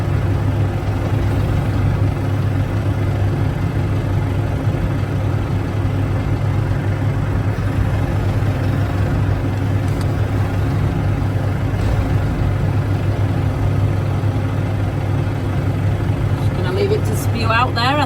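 A farm tractor with a feed-out feeder attached idles steadily in a low, continuous rumble that sits close and loud throughout, with someone talking over it.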